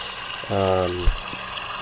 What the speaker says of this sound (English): you can see the water effects and sounds are all there